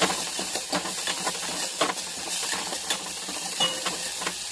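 Maggi noodles sizzle and hiss in a hot frying pan while a utensil stirs them with steady scraping strokes, close and continuous with no voices.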